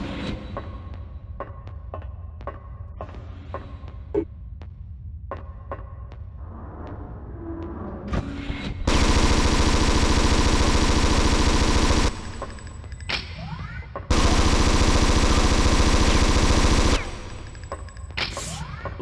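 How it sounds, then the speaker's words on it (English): Enemy flamethrowers in the PlayStation game Alien Resurrection, heard as two sustained, loud broadband roars of about three seconds each, separated by a short gap and preceded by scattered game noises and clicks. "Love that these guys just shoot their flamethrower when they're not even close enough."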